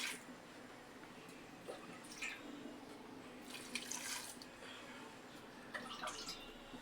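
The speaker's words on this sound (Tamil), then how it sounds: "தண்ணி எடுத்து கொஞ்சம் ஊற்றிக்கலாம்" Water poured from a glass in short bursts while making drumstick leaf soup, a soft splashing trickle that comes and goes against a quiet background.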